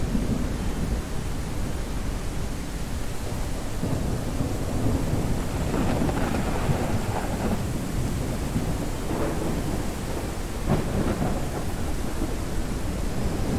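Steady rain pours in the Ranch Sim farming video game, with low rolling thunder rumbling through it and a few sharper cracks near the middle and end; no voices.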